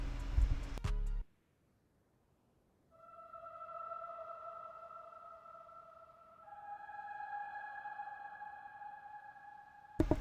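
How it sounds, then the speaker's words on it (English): Sustained synthetic choir pad of boys' voices in an ambient hip-hop beat, holding soft layered chords that shift once midway over a hazy low wash, after a short loud burst and a brief silence. "It's just a little like a boys choir that I found kind of used to fill in some space."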